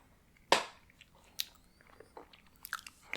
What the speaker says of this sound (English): I will take one to demonstrate chewing sounds.